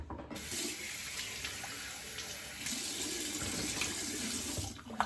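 Hot water running from a tap into a bathroom sink during a razor shave, a steady close rushing stream that holds evenly throughout before a small clunk at the end.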